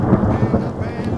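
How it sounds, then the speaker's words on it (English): Thunder during an afternoon mountain thunderstorm in the High Uintas, heard from a backpackers' camp; a short, low rumble rolls through the clip, moderately loud and alone. "Cue thunder."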